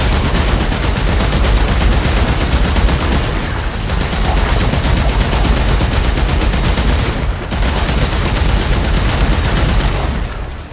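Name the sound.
gunfire in a video game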